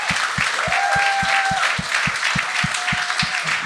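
A live comedy audience applauds loudly and steadily, a dense wash of claps with a few evenly spaced low thumps like rhythmic stomping or beats running underneath.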